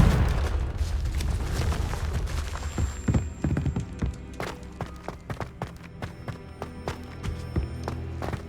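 Confringo fire spell blasts cast in Hogwarts Legacy: a dense, loud barrage of booming explosive bursts and crackling impacts, repeated rapidly over a constant rumbling game backdrop.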